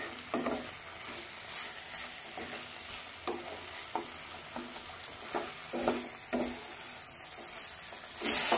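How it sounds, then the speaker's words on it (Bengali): Potato and spice curry being stirred and sautéed in a pan over medium heat, a soft steady sizzle broken by repeated scraping strokes of a spatula at an uneven rhythm, close and moderately quiet with no talk. "মিডিয়াম আছে সমানে কষিয়ে যাচ্ছে কিন্তু তরকারিটা এইভাবে কষিয়ে নিতে হবে। আলু মশলা সবকিছু একসঙ্গে।"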